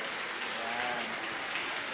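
Heavy rain pours down in a dense, steady hiss, loud and continuous across the whole stretch, with no other clear sounds standing out.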